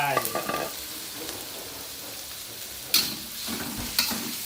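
Beef being stir-fried in a pan with a moderate sizzle, a spatula scraping at the start and two sharp clatters near the end, no talking.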